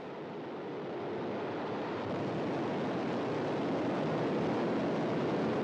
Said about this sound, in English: the boosters beginning to fire. We have preliminary booster ignition.